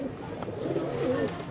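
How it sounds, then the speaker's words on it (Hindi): Highflying pigeons coo steadily nearby, low throaty burbling calls rolling over one another with faint background noise. "तकीर भाई के पास कबूतर सारे अच्छे हैं, ये देखें"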